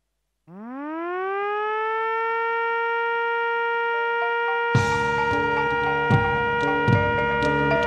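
A civil-defense style siren sounds at the inauguration of the Gumbasa dam and irrigation network, rising to a loud steady wail that holds for several seconds before crowd noise, bangs and clatter join in.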